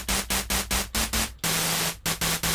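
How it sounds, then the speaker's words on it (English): A Bitwig Phase-4 synth oscillator, self-modulated at maximum setting, produces loud white-noise hiss in rapid rhythmic gated bursts, with one longer sustained stretch in the middle and a low steady tone beneath. "Then we're basically going to get a white noise sound that we can mix in with our other stuff."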